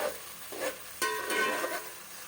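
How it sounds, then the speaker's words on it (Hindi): Chopped onion fries in hot oil for biryani, a soft, steady sizzle with a few brighter crackling bursts as the pieces are stirred in the pan, close and fairly quiet. "यहाँ पे जो मैं ऑनियन ब्राउन कर रही हूँ"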